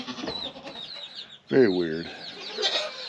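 Chickens clucking inside a farm barn, a loud close run of rooster-like calls in the middle, with someone speaking briefly over the birds.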